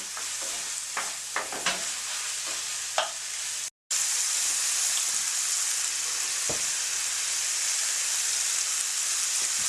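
Ground meat and garlic frying in a pan over high heat, with a constant close sizzle. Stirring scrapes and knocks come early on, and the sizzle carries on alone after a brief cut.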